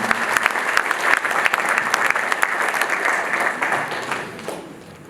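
A conference hall audience applauding the organisers of a law society annual meeting, many hands clapping in a dense steady roar with some sharper individual claps, gradually tapering off toward the end.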